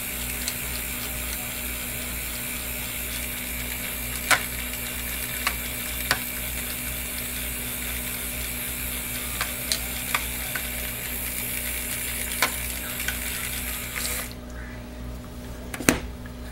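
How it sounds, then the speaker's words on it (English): A small mini whisk stirs a not-fully-set raspberry soap mixture, making a soft continuous wet swishing with scattered light clicks of the whisk against the container, close and fairly quiet. "My little mini whisk."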